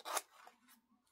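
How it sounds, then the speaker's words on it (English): Scissors snip through a paper page in one short, close cut during a paper craft, a brief crisp burst followed by faint rustle. "Oops, I'm cutting the page too."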